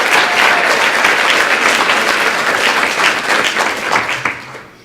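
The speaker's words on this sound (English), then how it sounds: "ask you all to join me in giving her a round of applause" Sustained, loud applause from a large audience greeting the evening's host at a formal meeting, dense clapping that holds steady and then tapers slightly at the end.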